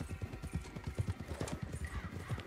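Horse hooves clip-clopping in the Red Dead Redemption 2 Online video game, a quick steady run of close, loud hoofbeats with a faint whinny in the mix.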